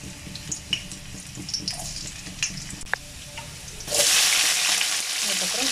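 Garlic fries in oil for chicken manchurian, giving a low crackle with scattered utensil clicks. Partway through, a loud, steady rush takes over, like a burst of sizzling or running water.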